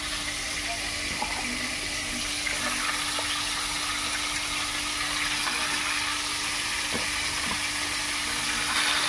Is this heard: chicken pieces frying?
yes